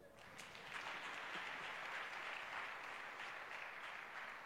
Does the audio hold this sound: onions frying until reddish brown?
no